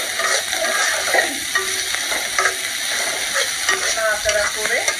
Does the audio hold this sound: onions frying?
yes